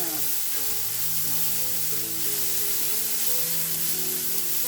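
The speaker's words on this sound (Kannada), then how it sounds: "ಈರುಳ್ಳಿನ ಸ್ವಲ್ಪ ಕೆಂಪಾಗಬೇಕಲ್ಲ ಸ್ವಲ್ಪ ಕೆಂಪಾಗೋ ತನಕ ಹುಡ್ಕೋತೀನಿ" Onions sizzle steadily in hot oil, a constant crackling hiss close to the pan with a low hum running underneath.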